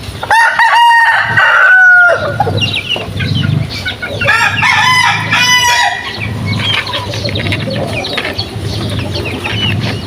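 A rooster on a rainy backyard farm crows loudly twice, the first crow near and clear, followed by clucking hens and steady rain noise throughout.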